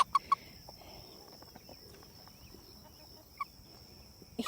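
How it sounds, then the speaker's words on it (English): An Americana chicken, a breed with fluffy face muffs, gives a few short clucks near the start and again faintly later, set against quiet outdoor background hiss with no talk. "But because Gandalf was an Americana, Americanas have these little muffs on their face, like a little fluffy beard around the bottom of their face"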